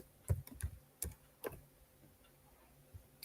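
Several light, crisp keystrokes on a computer keyboard come in an irregular cluster, then taper into fainter taps; quiet and close with no voices.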